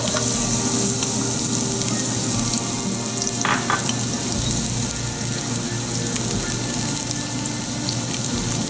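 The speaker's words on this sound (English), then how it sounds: "Pan is hot, so we'll add some oil, about a tablespoon of oil. And to this we'll add sliced onions." Sliced onions frying in about a tablespoon of oil in a hot pan, a steady close sizzle that holds evenly throughout, with no talking.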